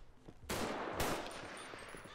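Two sharp gunshots in GTA V, the first at once followed by a second about half a second later, each decaying into a rumbling tail over quiet game background.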